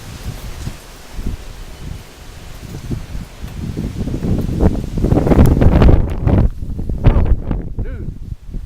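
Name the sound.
strong wind gusting through rustling leaves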